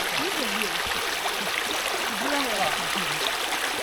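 Stream water flows steadily near the Kuthara Paanjan waterfalls at Panakudi in Tirunelveli, a continuous broadband rush and trickle that stays close and fairly loud throughout, with a few faint voices mixed in beneath it.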